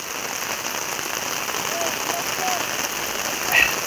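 Rain pours down in an even, dense hiss throughout, close and steady, with a faint brief chirp near the end.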